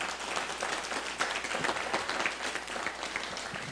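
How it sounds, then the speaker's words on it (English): A community-gathering audience applauding the hosting group, with many hands clapping in a lively, fairly loud, crackling burst that carries on steadily with no voices over it. "I'd like a round of applause for them"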